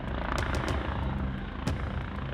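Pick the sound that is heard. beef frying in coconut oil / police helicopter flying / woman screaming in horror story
police helicopter flying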